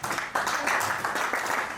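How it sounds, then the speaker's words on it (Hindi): Applause from an audience at a felicitation event, a dense burst of clapping that jumps up sharply and holds loud and steady throughout. "नीचे जोरदार तालियां हो जाए"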